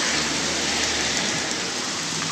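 Steady downpour over a flooding neighborhood street, a continuous broad hiss and patter of rain on surfaces, near and even throughout, with no one speaking.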